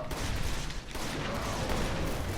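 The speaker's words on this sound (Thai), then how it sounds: "ปืนแมกนัมแบบลูกโม่อันนี้เนี่ยไฟเลดมันจะไวครับ คือก็โอเคอยู่อะยิงรัวได้อะนะฮะ" Rapid shots from a magnum revolver in Resident Evil 5, a steady stream of gunfire at moderate level with some background game noise, no talking.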